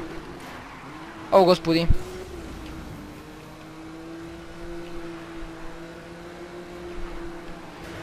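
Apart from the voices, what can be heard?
car engine and driving in Need for Speed video game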